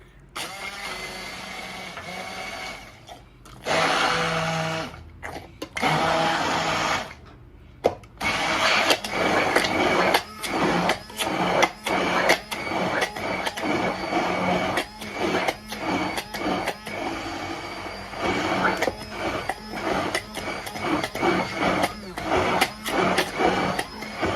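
A blender whirs in loud, close bursts, mixing ingredients with honey and liquid vanilla. Short pulses come first, then a longer run broken by rhythmic stops and restarts.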